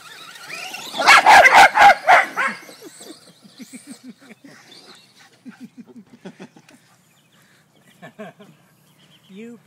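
A burst of several loud Scottish Terrier barks in quick succession, followed by softer, scattered whimpering yips and short barks from Scottie puppies at close range.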